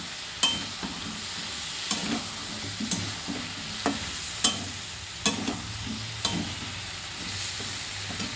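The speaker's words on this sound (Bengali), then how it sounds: "এবার আমি দিয়ে দিচ্ছি ভেজে রাখা পটলগুলো, দিয়ে আবার আমি নেড়ে চেড়ে নিচ্ছি।" Fried pointed gourd pieces stirred into a potato masala in a hot pan, with a continuous sizzle broken by repeated sharp scraping strokes of the spatula at a regular, unhurried rhythm.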